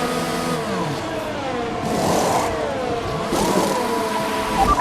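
An F1 car in the F1 2021 racing game accelerates hard out of the pit lane, its high-pitched engine rising in rising, sweeping revs through gear changes, loud and close for the whole stretch.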